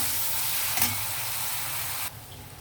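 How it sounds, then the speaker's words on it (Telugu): Onions and turmeric fry in hot oil for a chicken curry, a steady close sizzle with one brief stirring clatter that fades quieter near the end, and no voices. "ఆనియన్ కొంచెం వేగితే బాగుంటుంది కదా, నూనెలో వేగనిద్దాం."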